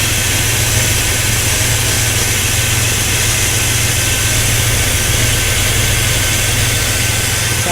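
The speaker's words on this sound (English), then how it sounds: "Sounds kind of squeaky with the belt." A 1998 Dodge Ram V8 idles steadily and close, a constant engine drone with a squeaky belt whine running through it, loud and unbroken with no talking.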